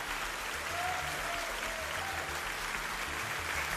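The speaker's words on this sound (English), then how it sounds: "Wild and thunderous applause." Continuous, even applause from a television studio audience, a soft wash of clapping heard at a distance and fairly faint, with no voices.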